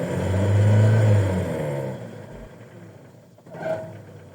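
A car engine revved hard for about a second, then settling back to idle with another brief throttle blip near the end, close up, with no talking.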